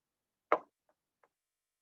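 One sharp knock on a door, followed by two much fainter taps, each separated by a short pause, against otherwise total silence.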